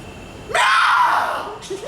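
A man imitates a pig's squeal on a theatre stage, giving one long, loud, strained shriek that rises and then fades, with a short yelp after it.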